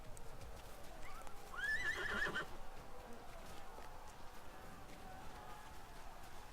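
Horses in a Middle-earth video game give a single close, wavering whinny lasting about a second, over a low, steady background rumble with faint game ambience.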